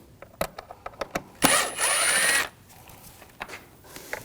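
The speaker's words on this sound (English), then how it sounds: "We're going to take these screws out, use a Phillips head screwdriver." A power screwdriver backs out Phillips head screws on a 2006-2009 Audi S4 4.2L V8. One loud, close whirring run lasts about a second, with light taps and clicks from handling the tool before and after it.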